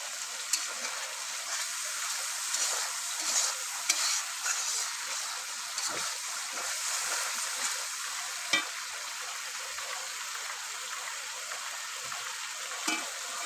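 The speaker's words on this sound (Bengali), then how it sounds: "মশলা যত ভালো করে বন্ধুরা কষবো তত রান্নাটাও টেস্ট হবে।" Spices for aloo dum fried and stirred in a pan over a clay stove: an even, continuous sizzle runs throughout, punctuated by occasional soft knocks of the stirring spoon, with nobody speaking.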